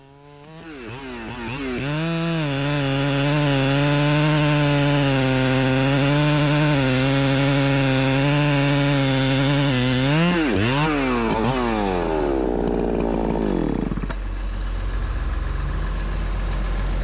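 A chainsaw cuts into a tree trunk during timber felling: the engine revs up and holds a loud, sustained snarl close by, dips and shifts pitch, then winds down toward idle near the end.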